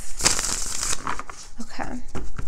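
Tarot cards shuffled in quick crinkly bursts at close range, a soft rustling, slapping run of card noise that continues steadily throughout with no voices.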